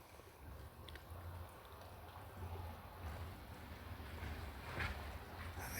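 A car drives along a road on the Isle of Man, heard as a faint, steady low engine and road rumble with wind noise, rising slightly toward the end with no talk.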